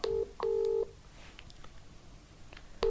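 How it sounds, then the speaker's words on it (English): Phone keypad tones beep in two short bursts at the start, then a faint quiet hush, and another tone at the end, heard close and alone. "I'm ringing him now."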